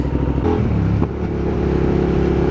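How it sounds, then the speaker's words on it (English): A Hyosung motorcycle fitted with a Danmoto exhaust revs up close, its engine note climbing sharply then settling into a loud, throaty idle. "Oh, the exhaust sounds so good."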